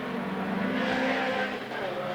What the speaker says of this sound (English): The Ginetta certainly looks at home on the circuit